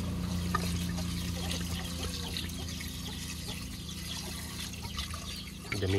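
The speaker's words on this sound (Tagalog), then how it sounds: "Lagyan natin ng tubig." Water pours into a cooking pot at home in a rural province, a steady close-up trickling and splashing stream that runs continuously throughout.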